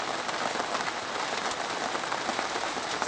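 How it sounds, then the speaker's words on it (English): Heavy rain pours down in a steady, dense hiss, loud and continuous throughout with no voices. "It's raining too much."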